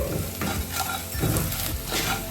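Spices including kasuri methi leaves and half a teaspoon of garam masala fry for palak paneer, making a loud, dense, continuous sizzle with stirring.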